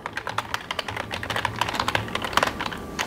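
A computer keyboard is typed on to enter a search, giving a quick, steady run of close, crisp key clicks with no talking.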